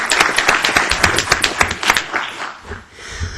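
Applause at a college Board of Trustees meeting, a short burst of sharp, uneven clapping from a small group that fades out after about two seconds.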